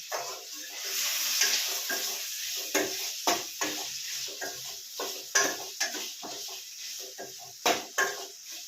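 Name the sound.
frying masala for sambar in a pan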